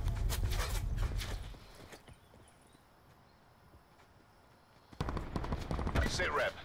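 Bursts of gunfire in Call of Duty: Black Ops 4 Blackout, rapid and dense at the start, then a quieter stretch before another loud volley near the end.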